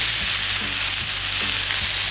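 Thinly sliced ribeye seasoned with salt, pepper and garlic sizzles steadily on a Blackstone griddle, a loud continuous fry with a few scraping stirs of a spatula on the flat top.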